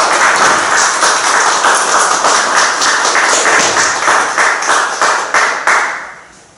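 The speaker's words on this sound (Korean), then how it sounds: "우리 박수로 환영하겠습니다" An audience at a preaching seminar claps loudly and steadily in welcome, a close, dense burst of many hands that holds for several seconds and then thins and fades toward the end.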